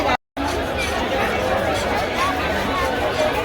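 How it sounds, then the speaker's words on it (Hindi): Dense crowd chatter at the Kaliyar fair market, a steady wash of many voices and bustle all around, unbroken apart from a brief gap near the start. "बहुत ज़्यादा भीड़ है सच में यार"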